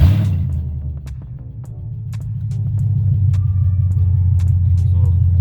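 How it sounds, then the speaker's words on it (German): BMW X5 E53 V8 idling without any exhaust system, only the manifolds, a loud, steady deep rumble with a slight rise in intensity partway through, running alone without talk. "Also der Wagen hat keine Auspuffanlage, nur die Krümmer. Es wird ein bisschen laut."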